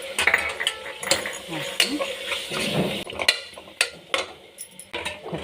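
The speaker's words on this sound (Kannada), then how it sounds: "ಟೊಮೊಟೊ ಸ್ವಲ್ಪ ಫ್ರೈ ಆಗಲಿ." Tomato and spices frying in a pan, with a spoon clinking and scraping against the metal in irregular bursts over a soft, low sizzle; a voice speaks briefly.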